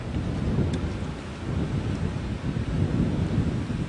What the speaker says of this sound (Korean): 아유, 파도가 막 부서져